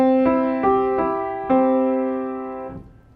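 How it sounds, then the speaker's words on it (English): A piano sounds a major chord, struck several times in quick succession, each attack ringing on and fading gradually over a few seconds, with no voices. "A major chord sounds like this."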